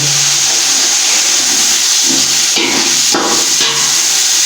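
Beef pieces dropped into hot oil and masala for yakhni pulao set off a loud, steady hiss, broken by several knocking thumps of the meat and spoon against the pot, with no voices.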